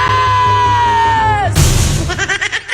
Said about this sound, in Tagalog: pinakamalakas na palakpakan sigawan